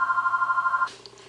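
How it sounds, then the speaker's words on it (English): A telephone rings with a fast, trilling electronic bell. A single burst lasts just under a second and then cuts off, leaving quiet room noise. "Sorry about the phone ringing."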